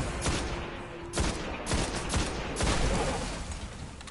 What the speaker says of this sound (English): That seems like a sniper rifle.